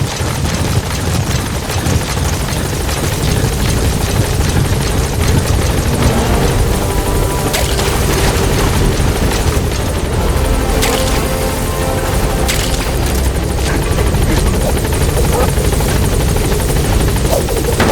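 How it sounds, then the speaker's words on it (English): A support helicopter in Metal Gear Solid 5 arrives at a landing zone with loud, steady rotor thudding and engine whine that stays close and dense throughout, with no voices over it. "Development project support helicopter has arrived."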